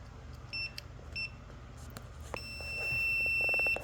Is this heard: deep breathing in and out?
no